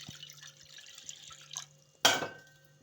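Water is poured into a pressure cooker while cooking ambadi greens bhaji. Faint drips and trickles lead into a short, close splash near the end.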